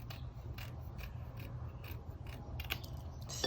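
Scissors snipping paper while trimming around a stamped vintage birds and branches design, with a series of quick, close, crisp cuts at an uneven rhythm and no speech.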